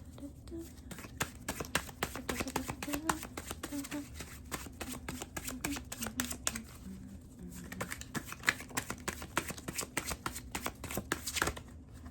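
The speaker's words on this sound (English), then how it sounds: "Let's pull cards" Tarot cards being shuffled by hand close to the mic, a quiet, continuous run of rapid crisp riffling clicks with a soft voice beneath.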